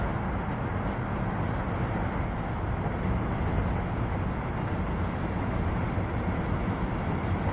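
A continuous broad rumble of a train running in the distance, steady and unbroken, with no voices over it.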